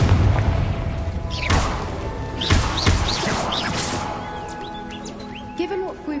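Confringo fire spell blasting in a video game, several deep booming bursts with crackling debris, layered over chirping birds and ambient game sounds that gradually settle down.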